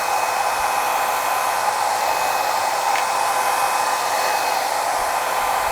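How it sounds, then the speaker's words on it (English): A hair dryer blows loudly and continuously at a steady pitch, close up, drying glue on a bald cap for a lace wig, with no talking. "I'm gonna go back in with my dryer for the last time"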